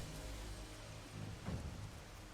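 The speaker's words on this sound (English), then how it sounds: "You can even hear the rain." Rain in a Warhammer 40,000 Astra Militarum video game, a faint, even hiss of falling water with a soft low rumble swelling briefly midway, no speech.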